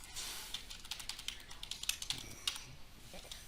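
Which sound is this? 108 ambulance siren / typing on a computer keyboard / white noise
typing on a computer keyboard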